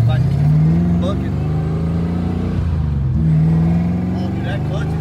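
A car with a bad exhaust leak accelerating, a loud steady engine drone rising in pitch, dipping at a gear change, then climbing again, with a person talking over it.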